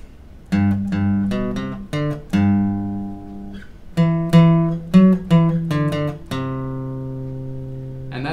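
Acoustic guitar plays a riff followed by its chords at a moderate pace, a run of crisp plucked notes and strummed chords ending on a ringing chord, close-miked with no talk.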